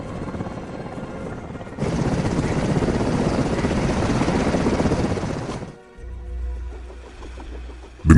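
A loud Sikorsky HSC-84 Red Wolf military helicopter roars with rapid rotor chopping, swelling in the middle, then fading into a lower engine drone.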